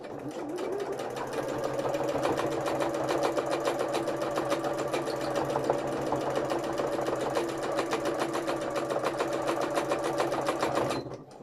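A sewing machine doing free-motion embroidery on hand-painted fabric runs steadily and loudly for about eleven seconds, a fast even stitching whir that stops abruptly at the end.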